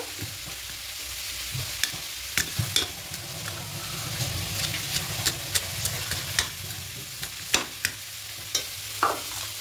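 Fish head frying with spinach in a pan, a steady close sizzle broken by regular sharp scrapes and taps of a spatula as the mixture is stirred, with no voices.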